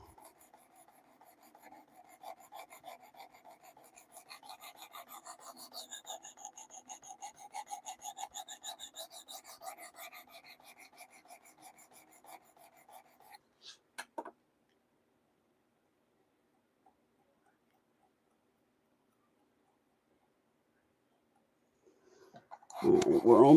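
CPM Rex 121 steel rasps back and forth on a 320 grit diamond stone in steady, close strokes that fade out, followed by near silence and a brief clatter at the end.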